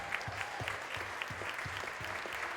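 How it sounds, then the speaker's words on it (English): Guests at a wine outing applaud, a moderate patter of many hands with a few louder, closer claps standing out, steady across the short stretch. "One more round of applause."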